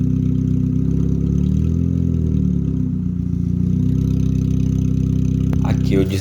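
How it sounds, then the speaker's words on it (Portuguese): Chevrolet Corsa fitted with an exhaust diffuser, its engine running at a steady idle with a low, throbbing drone that holds loud and even throughout. "Agora eu vou estar ligando o carro."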